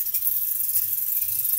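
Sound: water running from a tap while washing a wig

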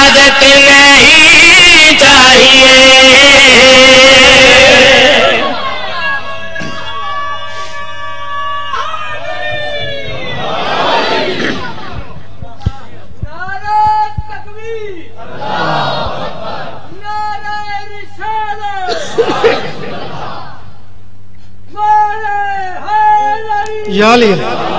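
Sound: crowd chanting religious slogans

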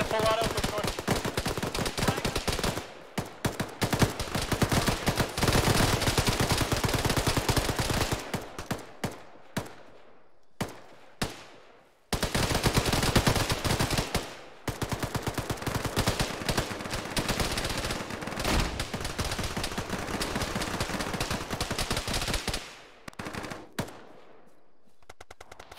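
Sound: full-auto gunfire in a military video game (ShackTac)

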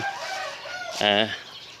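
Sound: chickens clucking on a farm

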